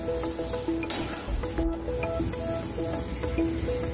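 Prawn thokku sizzles and fries in a pan, a constant dense hiss with occasional stirring scrapes and small spits, close and steady, without talk.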